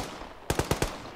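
A quick burst of four automatic gunshots in the Arma 3 military shooter, evenly spaced and sharp, standing out against a quiet background.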